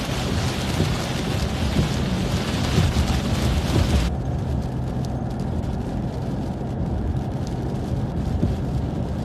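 Continuous rain pouring down, a dense steady wash of noise with a faint low rumble beneath and no talking.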